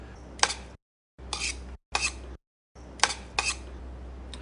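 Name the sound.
stirring sesame oil into a cabbage roll filling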